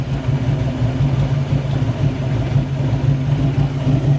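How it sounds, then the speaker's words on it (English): A 1993 Ford Mustang GT engine idles close by with a choppy cam, a steady low rumble with a lumpy, pulsing rhythm and no talk. "It sounds so much healthier now than it did before. But you can still hear that cam chopping."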